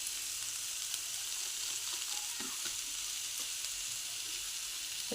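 Spices and a pinch of turmeric fry in a pan with a faint, steady hiss of sizzling oil. A few light scrapes of stirring sound close by, alone and with no voices.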